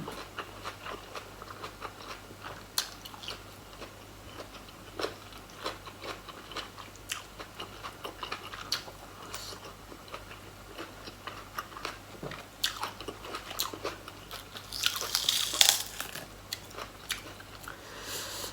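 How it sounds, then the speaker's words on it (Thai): Close, steady chewing and crunching of spicy som tam papaya salad with rice noodles eaten by hand, with soft wet bites repeating throughout and a busier burst near the end. "สมตำขนมจีนกินมือแสบที่สุด"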